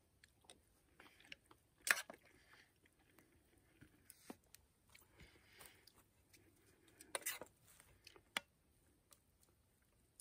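Quiet chewing of cooked sausage and rice during an outdoor taste test, with soft irregular bites and a couple of sharper crunchy moments, close to the microphone.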